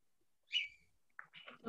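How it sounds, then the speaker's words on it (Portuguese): A small bird gives a faint, high chirp, followed a moment later by a short burst of quick twittering notes, distant and alone in quiet surroundings. "De quem é esse barulho de passarinho?"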